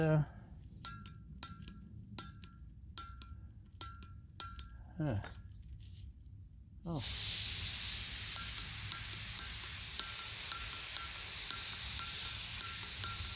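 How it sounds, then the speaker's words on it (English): A camping stove adaptor first clicks repeatedly, then fuel gas starts hissing out unlit in a loud, steady rush close by. "fuel is definitely coming out, but it's not lighting"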